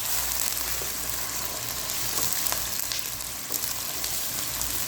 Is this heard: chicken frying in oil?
yes